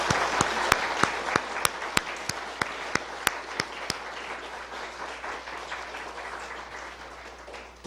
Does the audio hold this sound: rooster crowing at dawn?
no